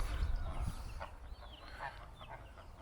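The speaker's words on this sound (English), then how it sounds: "We've got geese wandering around." Geese wandering around a camping and caravan site in Somerset give soft, faint honks and clucks at moderate distance over a low outdoor rumble.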